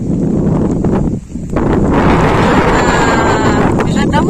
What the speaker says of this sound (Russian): И вот этот шум сейчас он сюда даст. Ветер.